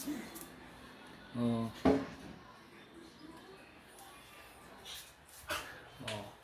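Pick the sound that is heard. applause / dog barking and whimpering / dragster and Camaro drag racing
dog barking and whimpering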